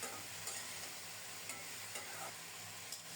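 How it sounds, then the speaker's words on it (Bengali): Okra frying in hot oil after a nigella seed tempering, a steady low sizzle with faint stirring clicks throughout, fairly quiet and without voices. "কালিজিরা ফোড়নে দিয়ে ভেন্ডিগুলো বসিয়ে দিলাম।"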